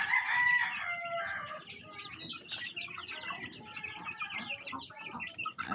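Rhode Island chickens clucking in a backyard coop with a rooster crowing, a busy layered mix of calls at moderate distance with no talking.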